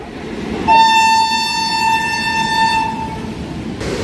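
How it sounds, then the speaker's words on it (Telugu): A double goods train with two extra locomotives in the middle rolls past, its horn sounding one long, steady, multi-tone blast for about three seconds over a low rumble of rail noise. "ఇది డబల్ గూడ్స్ ట్రైన్ ఇది"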